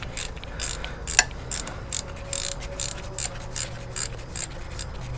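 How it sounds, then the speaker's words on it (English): A ratchet wrench clicks in short, regular bursts while working on the transmission of a 2007 Jeep Grand Cherokee Laredo, close and crisp with brief pauses between strokes. "I guess where the ratchet wrenches shine."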